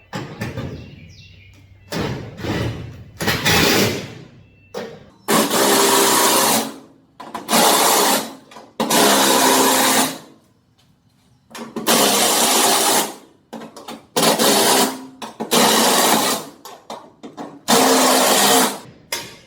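A screw gun drives lap screw fasteners into a standing seam metal roof during a recover installation, giving repeated loud bursts of whirring, each lasting about a second with short pauses between.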